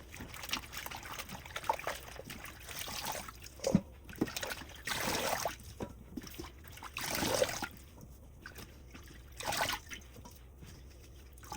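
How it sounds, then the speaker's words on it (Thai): Pickled mustard greens washed by hand in water, with intermittent trickling, dripping and sloshing bursts separated by quieter gaps, close and fairly soft, no speech. "แล้วก็เอามาล้างน้ำประมาณ3 น้ำเด้อหรือว่าจนกว่าน้ำมันใส"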